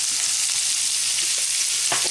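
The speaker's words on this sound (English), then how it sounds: "we're going to start by sauteing around a half a white onion or one small" Half a white onion sauteing in a couple tablespoons of olive oil in a frying pan, a loud, continuous close sizzle with faint stirring touches and no talking.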